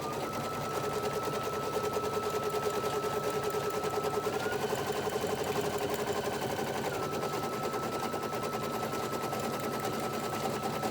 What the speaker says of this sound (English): don't hesitate to pause your machine if you ever feel like it's kind of getting out of hand